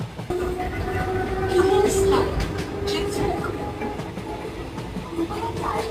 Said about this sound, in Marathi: अरे यार कशाला थांबवतात इथे ट्रेन काय माहित.